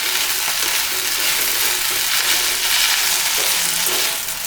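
Curry leaves sauté in hot oil in a pan for curry leaf chutney, a loud, close, continuous hissing sizzle with faint stirring underneath.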